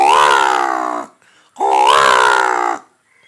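A man on a comedy stage imitates a crow's caw with his voice, producing two loud, drawn-out, harsh calls about a second each, separated by a short pause.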